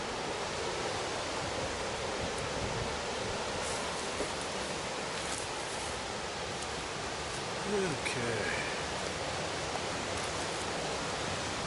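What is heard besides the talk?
loud river rushing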